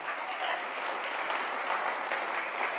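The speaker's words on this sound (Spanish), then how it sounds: "Denle ese fuerte aplauso al Señor" A church congregation applauds during a Spanish-language sermon, a dense, steady wash of many hands clapping at once, sustained and fairly loud throughout with no pauses.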